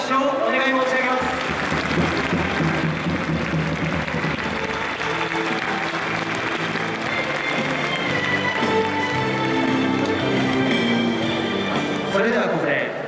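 Stadium crowd applauding at a Kawasaki Frontale home match as academy youth players are introduced, broad steady clapping lasting throughout, with a PA announcer's voice and crowd noise layered over it.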